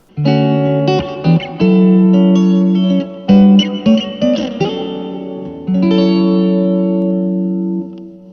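Electric guitar chords and single notes play through a hall reverb effect on a ZOOM MS-50G multi-stomp, a spacious, washy reverb that lets each phrase bloom and linger like in a large hall.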